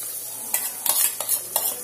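Small onions fry in oil over a low flame, giving a steady soft sizzle broken by several sharp scraping stirs of a spoon in the pan, close up, with no speech.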